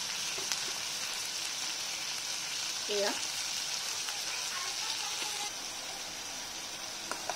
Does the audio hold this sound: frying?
yes